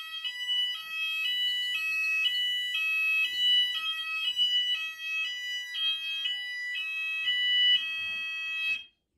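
Apollo XP95 fire alarm sounder under test, a loud, shrill electronic tone pulsing in an even on-off pattern for several seconds, then cutting off abruptly.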